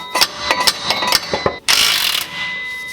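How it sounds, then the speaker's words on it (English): An impact wrench works a stuck bolt on an 8th-generation Honda Civic turbo build: several sharp, rapid hammering bursts, then a loud continuous rattling run, all close up with no talk. "we're gonna try and pull out the impact that doesn't ask nicely, and hopefully it just rips it right off"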